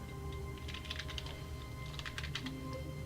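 Quick bursts of clicking keystrokes come from a computer keyboard during play of The Stanley Parable, fairly quiet over a steady low hum, with no one talking.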